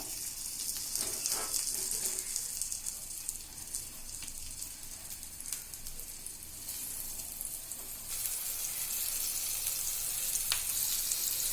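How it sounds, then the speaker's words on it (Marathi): Seer fish (surmai), coated in a spice mixture, frying in hot oil on a tawa, producing a continuous crackling sizzle that grows slightly louder later on, with no one speaking. "आता तेल तापल्यावर आपण फिश या मिश्रणामध्ये घोळवून व्यवस्थित फ्राय करायला घालूया।"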